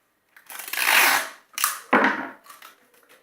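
Adhesive tape on a paper craft gun, ripped off the roll in two loud crackling bursts, then pressed down onto the paper with short soft rustles, close up.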